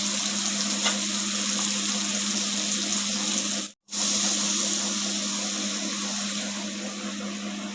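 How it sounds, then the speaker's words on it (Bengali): Cold water pours steadily into a pot of thin curry with potato, radish and eggplant, a loud continuous rushing splash that stops briefly midway and then resumes. "এরপর দিয়ে দিব আমরা ঠান্ডা জল।"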